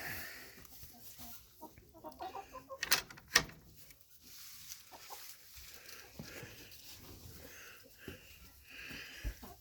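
Three hens in a backyard chicken coop with nest boxes, giving soft scattered clucks and rustling nearby, with a few sharper sounds near the start.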